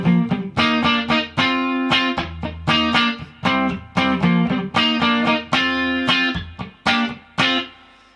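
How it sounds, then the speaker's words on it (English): A clean-toned electric guitar plays the choppy rhythm part of a song. Short, punchy chord stabs with small gaps between them sound loud and close, with no voice over the playing. "then it goes to a clean rhythm section part that sounds like this"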